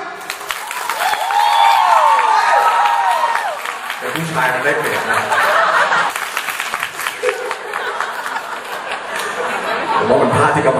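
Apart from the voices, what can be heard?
audience clapping loudly in a clapping contest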